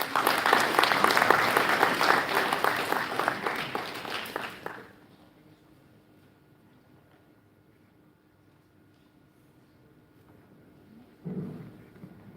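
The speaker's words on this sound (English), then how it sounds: "Let's all welcome him with a round of applause" Audience applause welcomes a speaker onto the stage at a college event, a dense burst of clapping that fills the first few seconds and then fades out, leaving near silence before a brief rise of voice and noise at the end.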